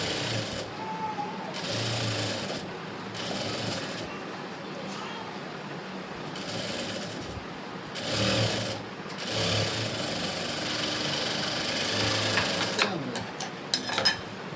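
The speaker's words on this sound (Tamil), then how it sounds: "டபுள் தையல் போடணும்." A sewing machine double-stitching a blouse runs in several whirring bursts of a few seconds each, broken by short pauses, loud and close with a steady mechanical chatter.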